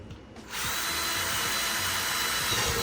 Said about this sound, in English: this is where I'm gonna put in just a couple of more holes